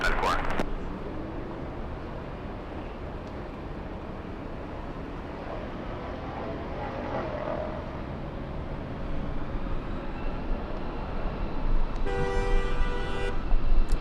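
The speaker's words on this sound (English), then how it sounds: "Honks of celebration coming from down below." Celebratory car horns honk from the streets below near LAX, a distant, thin tooting that rises toward the end over a steady wash of city and airport background noise.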